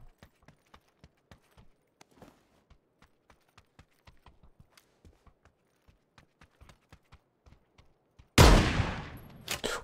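Gunfire in the PUBG battle-royale video game: a steady run of sharp single shots over about eight seconds, then a loud, dense burst of fire near the end.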